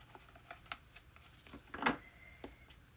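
Paper being trimmed for a steampunk craft journal produces soft, close snips and rustles with one brief louder cut in the middle, all faint and quiet without talking.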